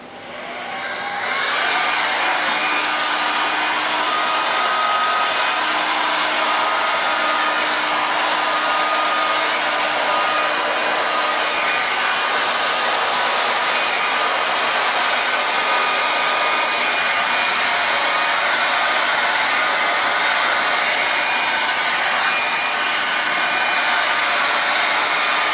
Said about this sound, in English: I'm just going to be taking a hair dryer, a regular hair dryer, no heat, just the air itself